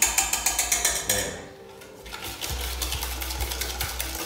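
Electric mixer with an unbalanced whisk spinning, giving a steady, close mechanical whir with a rapid rhythmic clatter that dips briefly, then resumes.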